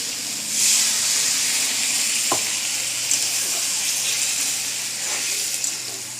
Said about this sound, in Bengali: এই অবস্থায় আমি এর মধ্যে জল দিয়ে দেবো।